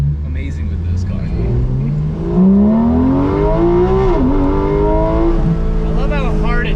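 A Porsche GT3 RS engine revs up inside the cabin, pitch climbing, then drops sharply at a hard gear change before rising again; voices speak underneath.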